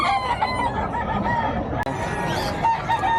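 Several roosters crow and hens cluck at a busy chicken market in Bocaue, Bulacan, loud and close, with overlapping calls over steady crowd noise and some talk.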